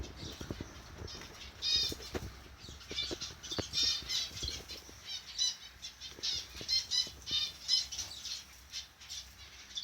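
Several birds arrive with repeated bursts of flapping wings and occasional squawks, close by and fairly faint, in an otherwise quiet outdoor spot where mealworms are set out.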